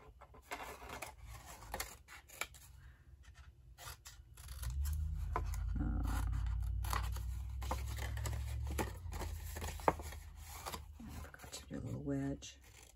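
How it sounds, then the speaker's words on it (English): Scissors cut through a paper gnome gift box pattern, giving close, steady snipping and rustling, with a fuller sliding cut in the middle as a voice talks over it. "Cut from whatever side is the easiest for you to see the marks on."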